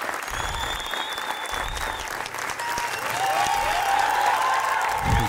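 An audience gives a sustained round of applause, a continuous wash of clapping that grows slightly fuller toward the end, with a few faint tonal whistles or cheers riding on top.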